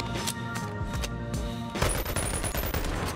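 An SMG in the VR game Boneworks fires in loud, rapid bursts, the automatic shots rattling close and continuous with short gaps between strings of fire.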